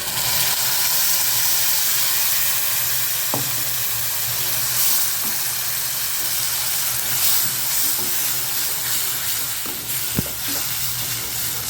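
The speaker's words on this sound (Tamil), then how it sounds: "வெங்காயம் கொஞ்சம் செவந்துருச்சு தக்காளி அரைச்சி வச்சுருக்கோம்ல அதை ஊற்றிடலாம்" Ground tomato paste poured into onions frying in oil for a spicy mushroom gravy, giving a loud, steady close sizzle and hiss with a few faint stirring clinks, no voices.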